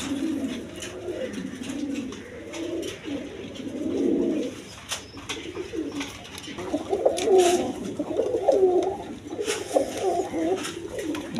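Yellow Indian Bombay pigeons coo in repeated low, rolling bursts close by, a few overlapping, with occasional clicks and rustles around them.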